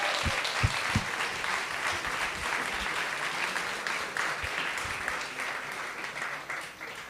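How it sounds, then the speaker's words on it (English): An audience claps for a coding bootcamp batch at a Le Wagon Lisbon demo day, a continuous round of applause that holds steady and tapers slightly at the end, moderately loud. "can we just give it one more round of applause for batch 148?"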